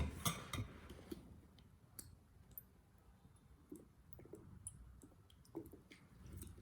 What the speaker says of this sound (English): Then mix well until everything is fully combined